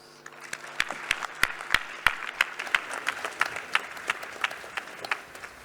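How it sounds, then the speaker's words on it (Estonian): Concert audience applauding at a spring music festival, a moderate patter of clapping with distinct sharp claps, steady for several seconds with no voices. "Aplaus!"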